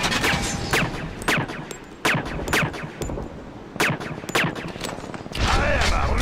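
Suppressed pistol fitted with a laser sight firing in a video game, about eight sharp muffled shots in uneven bursts, loud and close, with a steady noise bed behind.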